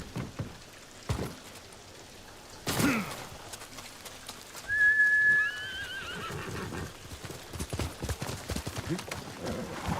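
Kage the horse in Ghost of Tsushima lets out one clear, loud whinny near the middle, set among game sounds, hoof clops and light rain.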